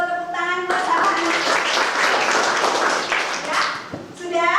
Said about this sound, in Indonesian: Tepuk tangan buat Samana